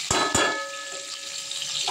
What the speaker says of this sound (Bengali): দিয়ে আমি আলুগুলো দিয়ে দেবো। আলুগুলো একটু নুন দিয়ে ভেজে নেব।